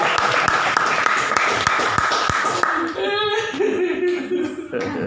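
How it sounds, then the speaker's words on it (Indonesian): Brief, crisp clapping from a congregation at a sermon, a few seconds of applause that gives way to a voice and murmuring with scattered laughter and coughs. "Tepuk tangan"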